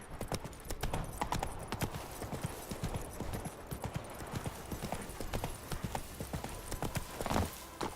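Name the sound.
horse Roach galloping up a hill in Witcher 3 video game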